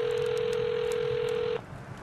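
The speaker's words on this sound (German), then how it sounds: "Ich rufe an." A steady telephone dial tone hums for about a second and a half, then cuts off abruptly, leaving quiet background hiss.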